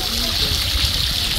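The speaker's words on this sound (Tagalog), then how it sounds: "Lalaro ng tubig" A child splashes and plays in very cold water at Hamilton Gardens in New Zealand, a steady close wash of moving water with a low rumble and voices talking over it.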